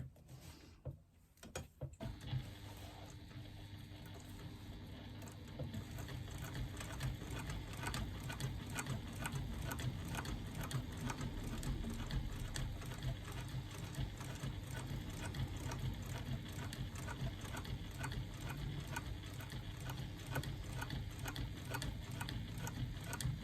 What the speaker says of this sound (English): You could even try a little bit of free motion quilting if you wanted to.